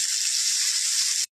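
Panch phoron spices and green chillies hitting hot oil in a pan for a Bengali mixed vegetable dish, giving a loud, steady, close hiss that holds for about a second before cutting off abruptly.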